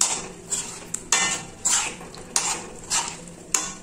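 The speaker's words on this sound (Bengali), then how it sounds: "এবার আমি ফ্লেমটাকে অফ করে দিচ্ছি আর এর মধ্যে দিয়ে দিচ্ছি 1/2 চামচ গরম মশলা। তারপরে এটা আমি ভালো করে মিশিয়ে নিচ্ছি।" A spoon clinks and scrapes against a pot while half a spoon of garam masala is mixed into vegetarian phuluri curry with the flame switched off, giving about eight sharp, close metallic knocks spaced unevenly.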